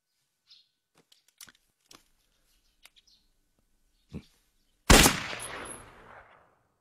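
Shooting practice in a drama scene: a few faint clicks and handling noises, then one sharp, loud gunshot close by whose echo trails off over about a second.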